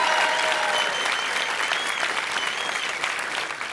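A comedy show audience at the Apollo breaks into loud, sustained applause with scattered cheers, a dense clapping wash that holds steady for several seconds.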